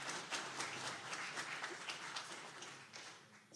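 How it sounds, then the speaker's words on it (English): Audience applause at a tech summit after a talk, a steady wash of many hands clapping at moderate distance that thins slightly toward the end. "let's give the round of applause"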